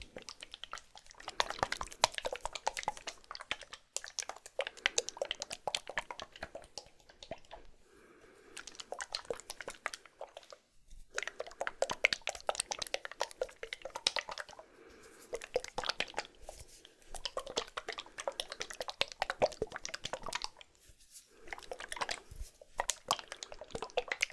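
Water sloshing inside a Gatorade pod for ASMR, close, soft wet squishes and drips in irregular bursts separated by brief quiet gaps.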